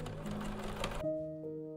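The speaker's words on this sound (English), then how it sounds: "Then we sew the side seam and press it open." A sewing machine stitches the side seam of a small doll summer dress, a steady rapid mechanical whir that cuts off abruptly partway, leaving a faint hum.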